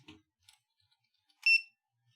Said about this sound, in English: So you could do an MQTT message that would trigger the buzzer a certain number of times